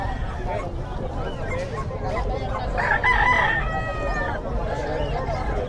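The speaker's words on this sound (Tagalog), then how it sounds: "Malaking manok." A big Kelso rooster crows once in the middle of a busy pet market in Bocaue, Philippines, loud and near, while people chat and other fowl cluck around it.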